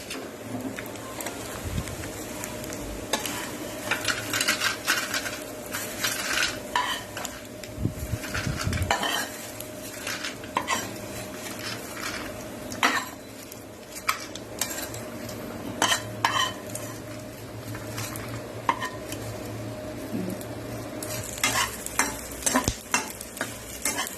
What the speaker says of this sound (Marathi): अशा प्रकारे ना आपण बाकीचा डिंक पण आपण भाजून घेणार आहोत.